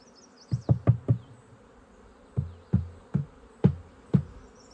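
A hive of honeybees, with a low buzz running throughout and a series of loud thumps in two clusters as a frame is shaken and knocked over the hive.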